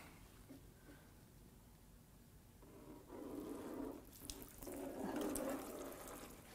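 Coolant drains from an upturned small-block Chevy 350 engine during a teardown, a faint trickle and splash of liquid that swells into a fuller pour partway through.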